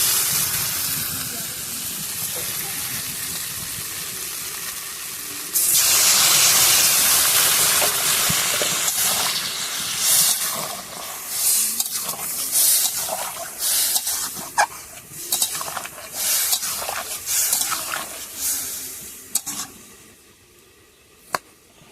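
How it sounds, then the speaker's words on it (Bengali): Water poured into a hot pan of frying potato and pea curry cooked with spices hisses in a loud burst of steam that settles into a sustained sizzle with crackles, with no talk over it. "আলু খামালু মটরশুঁটিটা একদম মশলার সঙ্গে ভালো করে কষে নিয়েছি এবারে জল দিয়ে দেবো"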